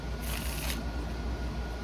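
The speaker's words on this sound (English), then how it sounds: "One more shuffle." A deck of tarot cards being shuffled, a brisk riffling burst early on followed by soft continuous card handling, close and fairly quiet with a low steady background hum.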